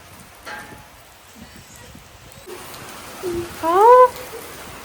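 Rain falls steadily as a soft, continuous hiss, with faint voices in the background and a short rising tonal call near the end.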